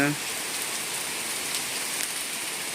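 Steady downpour of heavy rain falling in Mithapur, India, an even close hiss of drops drumming on surfaces throughout the short stretch.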